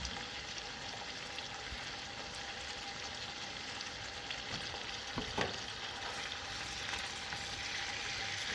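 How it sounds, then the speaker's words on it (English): Onions caramelize in a butter broth in a pan outdoors on a mountain, giving a steady, dense sizzle and crackle that holds at an even level throughout with no talking. "Making sure that these onions are getting properly caramelized."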